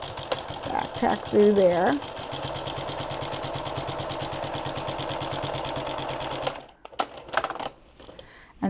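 A sewing machine stitches into the seam of a two-sided book pillow and then back tacks, whirring in a fast, steady mechanical rhythm for about six seconds before stopping, followed by small handling clicks. A voice speaks briefly over the start.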